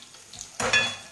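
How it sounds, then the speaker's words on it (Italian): Sautéing in a pan for hake fillets with lemon, a quiet clink followed by a burst of sizzling as something hits the hot pan. "Cominciamo a soffriggere"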